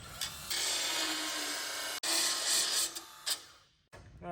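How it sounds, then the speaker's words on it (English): A needle file grinding a piece of brass gives a steady, close, raspy scraping that runs with brief breaks and a sharp click partway through, then stops abruptly near the end. "you just take your brass, needle file, and give it a little grind."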